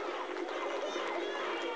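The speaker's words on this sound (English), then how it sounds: "The crowd going wild for Fly and Bryan Beardsley clearing two automobiles" A crowd at a 1978 skateboard jump over two cars, where Bryan Beardsley clears the automobiles, cheers and shouts in a dense, steady roar that lasts the whole short moment.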